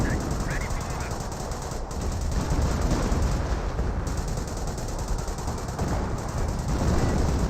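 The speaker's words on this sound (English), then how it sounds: "We've got a 25 pounder barrage in this region as well." Dense, continuous battle din of a 25-pounder artillery barrage in Company of Heroes, with rapid overlapping gunfire and blasts at a steady roar from start to finish.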